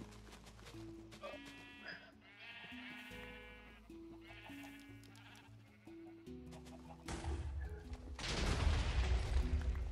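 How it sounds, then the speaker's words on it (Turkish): Sheep bleating repeatedly in a flock, several overlapping calls near and far, with a burst of louder noise at the end. "koyunlar duruyor"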